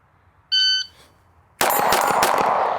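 Ported CZ P-10C pistol fired at a range: a high electronic shot-timer beep, then a pause, then a rapid string of loud, sharp shots with a ringing, echoing tail.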